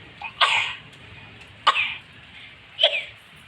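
Three separate coughs, close and fairly loud, spaced about a second apart, each a short harsh burst over a quiet background with no speech.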